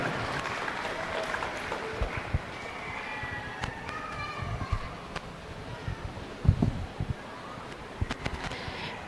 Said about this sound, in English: Give all three a big round of applause